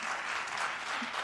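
Dense, steady applause fills a plenary hall, a continuous wash of many hands clapping at moderate loudness with no break.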